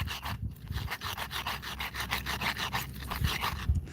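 Steady rhythmic grinding of a Chamorro sling stone against sand, a gritty rasping scrape repeating several times a second, close and continuous with no talking.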